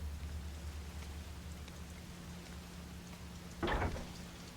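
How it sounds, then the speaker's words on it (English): Rain ambience in the video game Fatal Frame: Maiden of Blackwater, a steady soft hiss over a low hum, with one brief thud near the end. "Just the sound of the rain."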